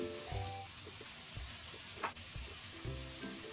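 Fresh peas sizzle and crackle as they are stir-fried in a hot pan with seasonings, a steady hiss broken by a few clanks and tosses of the pan.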